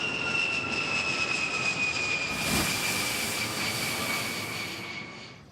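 An airplane drones steadily overhead with a constant engine hum and whine, swelling briefly in a broad whoosh near the middle before fading slightly toward the end; no voices.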